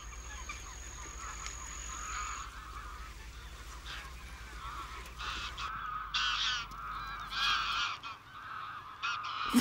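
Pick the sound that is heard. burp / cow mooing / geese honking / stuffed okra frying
geese honking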